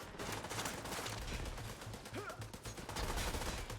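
Gunfire in The Division 2 crackles in rapid bursts and sustained automatic fire throughout, fairly dense and distant-sounding, mixed with game ambience and faint voice activity.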